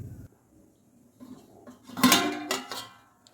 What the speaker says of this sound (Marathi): पातेल्यावर मी झाकण ठेवते म्हणजे पटकन उखळी येईल